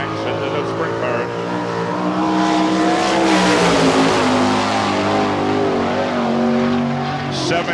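Sprint car at the 1998 All Star Circuit of Champions Spring Nationals in Hartford, Ohio roars down the backstretch, a loud sustained engine note that swells and fades as the car passes, with an announcer talking over it.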